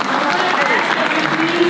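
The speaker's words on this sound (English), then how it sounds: "Please hold the applause, please, because we really need to hear everyone." Applause from the audience at a community meeting about a Chinatown jail complex, a loud, dense burst of clapping over a brief moment, with a voice talking through it.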